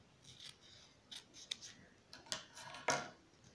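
Scissors snip through double satin ribbon, 38 mm wide, in several short, crisp cuts spread across the moment, close and fairly quiet, with no talking.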